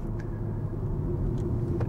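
BMW 330i Touring G21 with a 258 PS engine driving on a road in the Bavarian Alps, a steady low engine and road rumble heard from inside the car with no talk.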